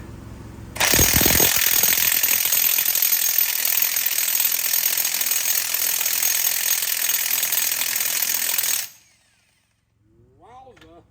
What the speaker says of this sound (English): we'll use the old faithful DeWalt electric impact